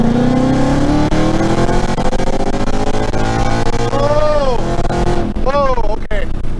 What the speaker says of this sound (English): we're gonna do a punch here from 30